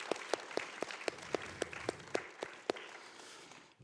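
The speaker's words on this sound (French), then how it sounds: "qu'on peut applaudir et qui a fait ce magnifique trophée." Applause from an audience at a French film award ceremony, with distinct individual claps standing out over a steady clapping wash, moderately loud and close, fading slightly toward the end.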